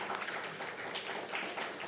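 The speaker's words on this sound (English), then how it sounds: "a round of applause for our panelists" An audience at an Africa Money & DeFi Summit panel session claps for the panelists. The applause is soft, distant and steady, a brief wash of many hands with no voices over it.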